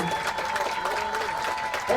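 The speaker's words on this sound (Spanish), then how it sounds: "Señoras y señores, los aplausos de la gente de Cerro Porteño." Cerro Porteño fans at a trophy ceremony for a football cup final clap in a dense, sustained wash of applause while an announcer talks loudly over it.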